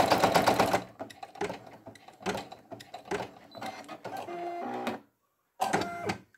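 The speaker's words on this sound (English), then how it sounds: "just stitching in the pinks of her ears." A Brother single-needle sewing machine stitches a minky fabric appliqué in short bursts of rapid mechanical clatter separated by brief pauses, loud and close, with a longer gap before a final burst.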